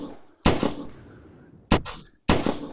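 Hand cannon gunshots from an indie video game: three sharp, loud single blasts, each with a short decaying tail, spaced roughly a second apart.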